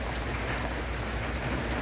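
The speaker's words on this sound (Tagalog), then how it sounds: "Wow, ulan." Heavy rain pours down steadily during a storm, a dense, loud and unbroken hiss of drops with no voices over it.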